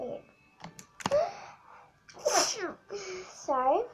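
A sharp sneeze bursts out near the start, followed by a quick apology and then people talking close by.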